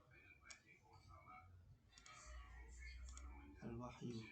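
Soft, quick keyboard typing clicks in short bursts, with faint whispery voices and low rumble underneath.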